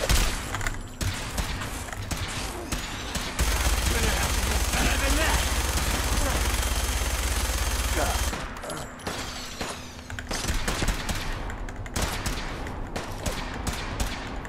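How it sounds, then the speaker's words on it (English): Sustained automatic gunfire in Fallout 4, a dense rattling fusillade of rapid shots that roars for several seconds, then breaks into scattered bursts and single cracks, loud and close. "Who's shooting at me?"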